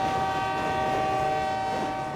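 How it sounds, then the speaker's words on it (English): A train rolls past close by on rail, its horn blaring as a strong sustained tone over the rumble of wheels and cars, loud and steady throughout. "Here comes the train now."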